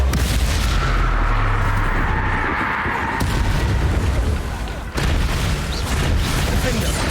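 Confringo spell explosions in Hogwarts Legacy, a loud, dense run of booming blasts and crackling bursts that fill the whole stretch, with brief breaks before the rumble picks up again; someone speaks over it.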